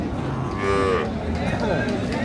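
A dairy cow at a rural cattle market in Dinajpur gives a loud, drawn-out moo that sits close over steady market crowd noise, with a second, rougher bellow following.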